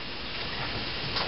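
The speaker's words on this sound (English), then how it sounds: "hear that sizzle?" Steady, dense hiss of food frying in a pan, continuous and fairly close, with no talking.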